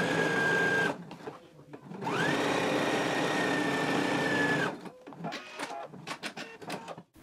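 Sewing machine running stay stitching along the upper edge of a front pant piece, with one short burst followed by a longer steady whir, then a few clicks and handling sounds.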